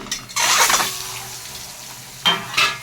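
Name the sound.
boiled eggs coated in salt and turmeric frying in a pan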